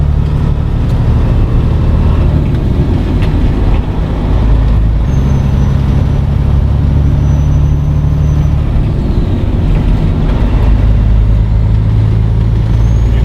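A professional truck's diesel engine drones loud and close in the cab as the driver floats gears without the clutch, steady low rumble dipping and rising between shifts, with faint hiss and rattles.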